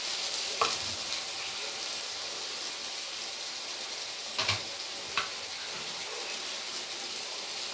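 Garlic fries in a pan with green chilli paste, a moderate continuous sizzle with a few sharp clinks of a spoon against metal, heard alone without talk.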